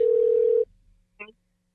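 An outgoing phone call rings out: a steady electronic tone holds for about half a second, then cuts off, followed by a brief faint chirp on the line and silence.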